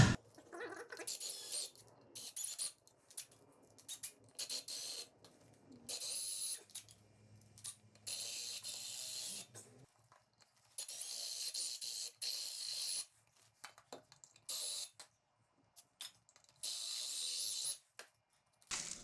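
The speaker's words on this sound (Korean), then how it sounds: "이렇게 해서 지금 리베트를 제거를 한 다음에 양쪽을 한번 열어볼게요" A drill bores out the rivets on a Comet 650 stock muffler in a series of harsh, intermittent bursts of grinding and whirring, close and fairly loud, with brief gaps between them.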